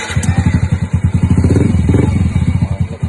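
Yamaha Mio M3 scooter engine with a weak battery cranking and catching: loud, close, rapid rhythmic chugging pulses that run unevenly for about three seconds, with no talk.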